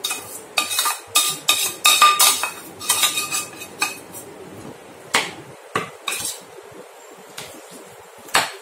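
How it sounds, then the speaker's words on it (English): A spoon stirs a mashed chickpea and pea burger mixture in a bowl, giving irregular clusters of close, crisp clinks and scrapes against the dish that come in quick bursts and then thin out into a few separate knocks. "this mixture I will mix in my mashed chickpea and pea mixture"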